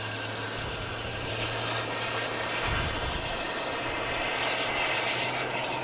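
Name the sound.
JetBlue Airbus A321 jet arriving at Boston Logan airport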